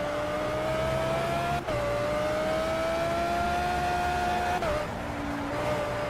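A car in the video game S.T.A.L.K.E.R. 2 drives while oversteering, with a steady droning engine tone that holds, dips briefly and shifts pitch, loud and continuous with no talk.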